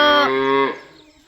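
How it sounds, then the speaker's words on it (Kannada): A mother cow lets out a single loud, close moo that trails off quickly into quiet. "ಅವ್ರ ಅಮ್ಮನ ನೋಡ್ರಿ ಹೆಂಗೆ ಕೂಗ್ತೈತೆ"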